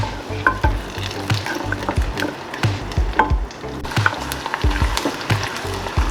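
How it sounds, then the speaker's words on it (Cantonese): Ginger and garlic sizzle in sesame oil in a hot clay pot, a continuous close crackle broken by repeated scraping stirs in an irregular rhythm, with no talking. "俾炒香佢啦，慢慢爆香佢啦。"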